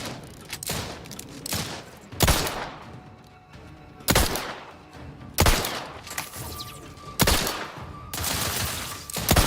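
Combat in The Outer Worlds 2 on hardest difficulty, with heavy gunshots cracking out every second or two, each loud and punchy, over a continuous din of battle noise.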